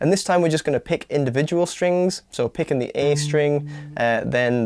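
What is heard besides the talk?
No everyday noise stands out behind the speech.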